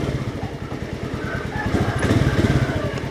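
A 2018 Honda Scoopy scooter engine running with a whining noise: a close, steady rhythmic putter, rising slightly toward the end, with a faint higher tone over it.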